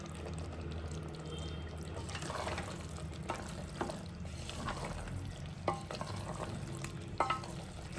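Roasted paneer is stirred with masala and cooked vegetables in a pan, a quiet close sizzle under soft scraping, with a few sharper spoon knocks against the pan and no talking.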